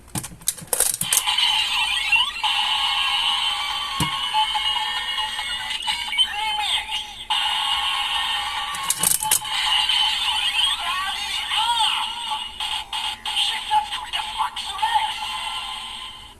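A continuous electronic remix jingle from a DX Revice Driver toy transformation belt, bright synthetic tones and beeps, loud and busy throughout, with a few clicks and knocks mixed in.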